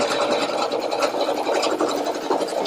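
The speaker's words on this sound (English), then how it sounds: "Now we are going to stitch the tack down for all of this." An embroidery machine stitches a tack-down line on fabric, a steady close whirring and rapid needle chatter that runs without a break.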